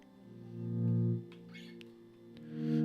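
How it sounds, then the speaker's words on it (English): Electric guitar played through an ambient reverb pedal with no delay, sustained chords blooming and swelling into a warm wash, fading, then rising again, with a few faint pick and string noises in between. "if we switch back over to the ambient pedal, just the ambient pedal and no delay"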